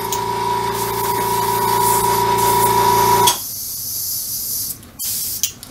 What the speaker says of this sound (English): Just keep spraying until the green's all gone.